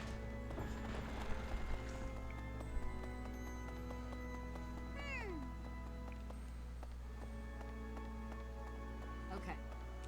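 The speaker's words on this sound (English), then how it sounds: "Lots of cats." Cats meowing in the video game Fire Emblem: Three Houses, with one clear falling meow in the middle and fainter mews near the end, set against soft game music and light footstep clatter.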